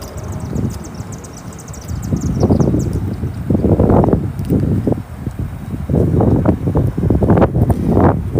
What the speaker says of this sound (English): I cannot get over the wind